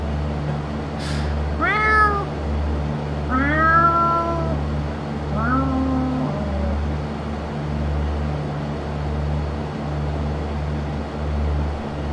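A cat meows several times, three or four drawn-out, wavering calls spaced a couple of seconds apart, fairly close and clear over a steady low engine-like drone of a flight-simulator cockpit.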